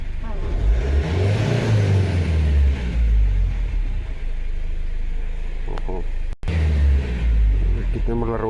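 The Cummins 2.8 diesel in a 2020 Foton Combi van revs hard at full throttle, rising and falling in deep surges from close by, with a person talking over it.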